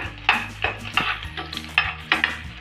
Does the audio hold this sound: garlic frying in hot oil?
yes